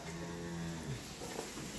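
A young sacrificial cow about one year old lowing once in a low, drawn-out moo amid steady outdoor livestock-market background noise, no talk.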